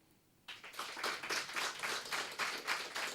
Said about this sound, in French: aux sympathiques apprentis que vous allez écouter applaudir à tout rompre